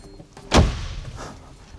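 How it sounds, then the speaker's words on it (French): A single solid thud marks the door of an Audi S5 Cabriolet shutting, close up, followed by muffled interior quiet and a faint later rustle. "Alors, je vais fermer la porte."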